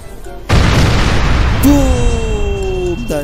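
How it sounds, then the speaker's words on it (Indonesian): A cartoon-style explosion bursts during an Ultraman fight scene, a loud sudden boom at about half a second that rumbles on, with a falling tonal whine layered over the decaying blast. "Dan tiba-tiba terjadi sebuah ledakan."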